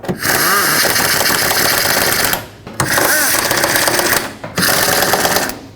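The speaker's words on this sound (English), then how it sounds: "These 2 10mm bolts, or one right here and one right here. Snug these up." A power tool snugs the 10mm fan shroud bolts on a Chevrolet Express van in three loud, sustained whirring bursts separated by short pauses, close up and with no talking.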